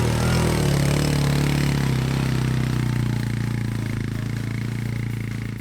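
The engine of a small four-wheeler ATV drones loud and close as it tows a 65-pound drag device over sandy lawn, a steady low rumble that fades slightly toward the end.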